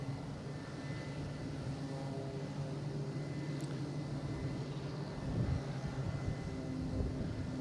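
A JetBlue airliner takes off for JFK at Boston Logan, heard as a faint, steady engine drone with a low rumble that swells slightly toward the end, distant and without voices.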